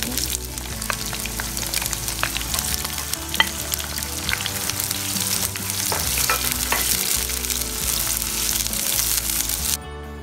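Shallots hiss and crackle loudly in hot oil, with quick stirring scrapes of a utensil against the pan throughout, while preparing special rice vermicelli; the frying cuts off abruptly near the end, and no one talks.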